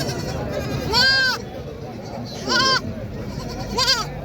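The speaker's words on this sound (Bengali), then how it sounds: "এটা মহিলা রাম ছাগল ব্ল্যাক রাম" A female black Ram goat at a livestock market bleats three times, each a loud, wavering cry about a second and a half apart, with voices and market noise in the background.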